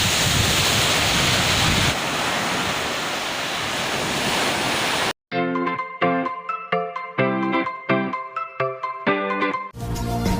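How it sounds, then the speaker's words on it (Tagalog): Steady roar of surf washing onto a beach for about five seconds, then it cuts off abruptly and a bright electronic melody plays in its place. "Masasabi ko napakaganda ng dagat dito."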